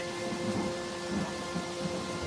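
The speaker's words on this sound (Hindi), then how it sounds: "ये बारिश तो बहुत तेज हो रही है सविता। देखो कितनी तेज बिजली चमक रही है।" Heavy rain falling steadily with low rumbles of thunder, a dense continuous wash of sound with no voices.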